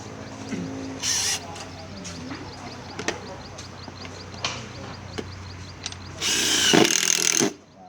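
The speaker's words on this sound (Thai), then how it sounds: "สกรูมีอยู่หนึ่งตัวแล้วล็อกเลยล็อกหนึ่งตัว" A power driver fastens a screw while a wood router with a guide fence is being installed, sounding as short whirring bursts with a longer, louder run near the end over low background noise.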